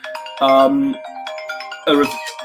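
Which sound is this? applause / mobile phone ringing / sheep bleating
mobile phone ringing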